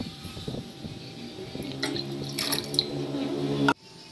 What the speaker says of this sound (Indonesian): Masukkan juga air putih 100 ml.